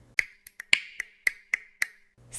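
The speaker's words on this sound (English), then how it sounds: "It's literally remixing my snap." Eight crisp finger snaps at an irregular, unhurried pace, sharp and close with a short ringing tail after each, alone in otherwise near-silent surroundings.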